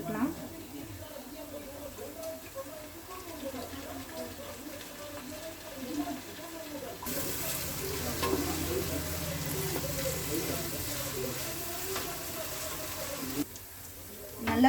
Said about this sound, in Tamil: இஞ்சி பூண்டு போட்டவுடனே கொஞ்சம் அடி பிடிக்கும், அதனால கொஞ்சம் வதக்கிட்டே இருக்கணும்